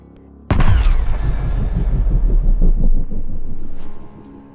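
A blank gun fired at point-blank range into an apple bursts it with a single sudden, loud bang, followed by a few seconds of deep rumbling decay that fades out; no voices.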